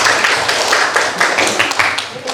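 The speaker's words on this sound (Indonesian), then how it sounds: "Tepuk tangan untuk kita semua." A classroom group claps together in a dense, continuous burst of hand claps that lasts a couple of seconds, close and loud, with a few voices mixed in.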